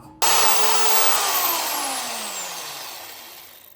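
A saw cutting off a fully threaded bolt held in a stop starts abruptly with a loud, high whine that slowly winds down in pitch over a few seconds, close and alone.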